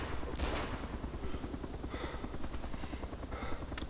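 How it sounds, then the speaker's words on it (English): Several gunshots ring out in the Arma 2 DayZ mod, sounding in quick irregular bursts over a steady, loud background hum, with a rotor-like drone present. "Shots. Okay, multiple shots."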